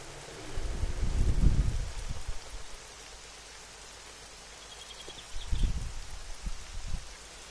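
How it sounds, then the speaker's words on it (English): Rain falls steadily in the game 7 Days to Die as a soft constant hiss, broken by two louder bursts of low rustling and thudding movement nearby, with no voices. "Always rain in this town."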